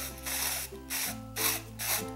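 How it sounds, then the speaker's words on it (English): Several short hissing bursts of spray-on nail polish, about four blasts in a row with brief pauses between, close by over a low steady hum. "Shake and spray polish and nail from 4 to 6 inches away"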